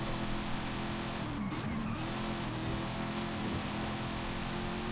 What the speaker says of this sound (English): Car sound is magnificent.